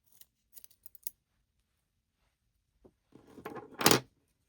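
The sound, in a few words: scissors trimming crochet yarn ends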